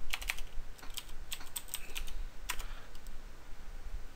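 Close, fairly quiet keystrokes on a computer keyboard as commands are typed to configure a Cisco switch, short bursts of taps with brief pauses and no speech.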